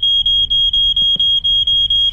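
A smoke alarm in the video game My Summer Car beeps in a steady, rapid repeating pattern, loud and close, with a few faint thuds underneath; a stove was left on.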